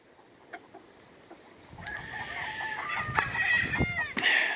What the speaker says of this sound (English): Here's one of the brassy back stags from last year.